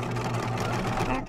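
Loud, close sewing machine back stitching along a bag seam, a short continuous mechanical hum and rattle that drops off at the end, with a voice speaking briefly over it.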